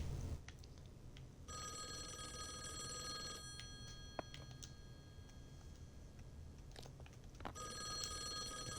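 A telephone rings in the horror adventure game Call of the Elder Gods, two long electronic trilling bursts separated by a pause, clear and fairly quiet over a low room hum with a few small clicks.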